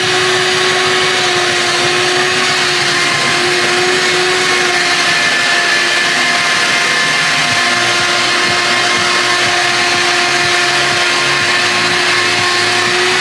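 A vacuum cleaner runs continuously at close range, drawing up tile and wood demolition debris during a sunroom teardown, its loud steady drone shifting slightly in pitch as it sucks material.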